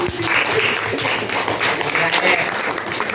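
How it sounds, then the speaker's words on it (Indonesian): A classroom group claps for a presenting team, a continuous loud patter of hands with some background voices mixed in. "beri tepuk tangan untuk kelompok 3"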